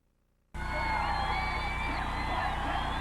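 A Portland crowd at the Rose Garden erupts into a loud, sustained roar of cheering and whoops at a 2001 WNBA game between the Portland Fire and the LA Sparks, after near silence.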